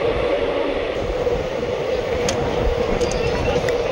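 Ratnachal Express running on the outer tracks near Samalkot junction, heard from inside a coach as a steady, loud rumble of wheels and carriage noise throughout with no clear breaks.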